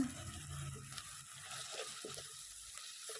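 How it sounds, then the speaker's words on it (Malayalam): Squid masala with chopped tomatoes sautés in a pan for a Kerala-style squid roast, giving a soft, low sizzle with faint stirring scrapes throughout. "എന്നിട്ട് നന്നായിട്ടൊന്ന് വഴറ്റി കൊടുക്കുന്നുണ്ട്"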